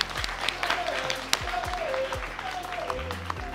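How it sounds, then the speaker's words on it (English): Audience applause for conservation challenge finalists at an awards event, sustained dense clapping filling the whole stretch, fairly loud, with a few voices and thumps mixed in. "Give them a round of applause."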